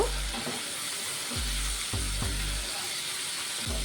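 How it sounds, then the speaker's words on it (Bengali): Paneer frying in hot oil in a pan: a steady, close crackling sizzle runs throughout, broken by a few low knocks and scrapes as the pieces are turned. "পনিরগুলোকে সুন্দর করে একটু ভেজে নেব।"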